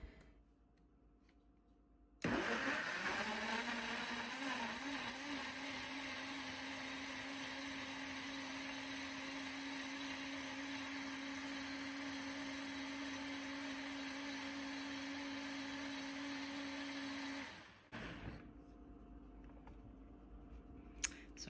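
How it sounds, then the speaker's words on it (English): A countertop blender whirs loudly and steadily for about fifteen seconds, pureeing tomatoes, garlic, salt and garden basil, then winds down to quiet. "put the lid on here and blend it up"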